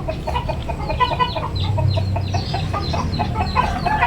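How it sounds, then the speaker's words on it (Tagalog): Chickens cluck busily in a garden with many plants. The cackling is steady, overlapping and continuous over a dense outdoor background of farmyard noise. "Daghan naman din mo manok"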